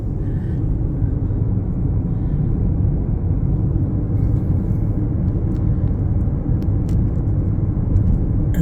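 A car drives along a neighborhood road in South Gulf Cove, with a steady, close interior engine and road rumble that holds unbroken throughout, and no voices.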